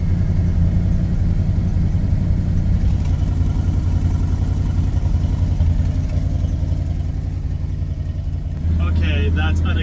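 A 1978 Dodge D300 truck engine, parked over 40 years, runs steadily after a cold winter start with a loud, continuous low rumble and a slightly rough idle throughout.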